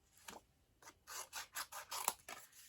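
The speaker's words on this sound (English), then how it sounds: "if I trim that piece of paper off, we can put something else on here too" Paper trimmed with scissors while making a Stampin' Up! flower cart die-cut card: a close, crisp series of about eight rhythmic snips, with no talking.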